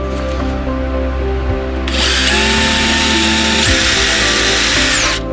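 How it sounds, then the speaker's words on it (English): A power drill bores into a wooden crate board, a loud high whine starting about two seconds in and running steadily over a background hum, close up. "Drill it out."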